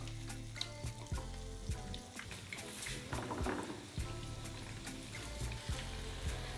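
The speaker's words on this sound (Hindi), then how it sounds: "अब बाकी वाला पोर्शन भी मैं इस तरह से सेम फ्राई कर लूँगी" Battered chicken pieces for Chicken Manchurian fry in hot oil in a kadhai with a steady, bubbling sizzle, soft and close, broken by occasional clicks and stirring taps.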